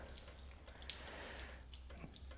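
Water running off a car headlight during a leak test: a faint, steady trickle and splash, with a few soft drips close by.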